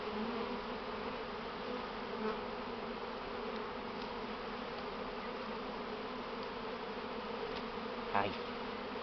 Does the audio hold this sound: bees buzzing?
yes